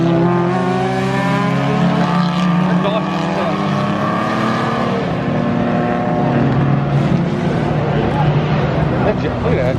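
A vintage Jaguar race car passes at the Pittsburgh Vintage Grand Prix, its engine a steady loud drone with rising and falling pitch throughout, heard close by amid crowd noise.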